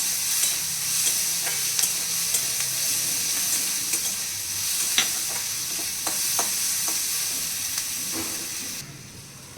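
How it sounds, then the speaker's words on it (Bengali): Onions sizzle and hiss in a hot pan for sooji upma, with a spoon stirring and scraping in frequent irregular clicks against the steady frying noise, close up and with no voices. "এই যে আমার পেঁয়াজ ভাজা হয়ে গেছে"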